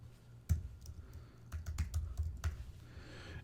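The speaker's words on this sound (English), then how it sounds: "type that in real quick." A password is typed on a computer keyboard: one sharp keystroke, then a quick, close burst of clicking keys, in a quiet room with no talking.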